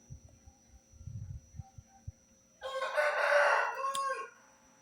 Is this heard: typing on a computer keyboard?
no